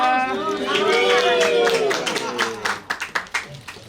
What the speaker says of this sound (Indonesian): Oke, tepuk tangan tuh semuanya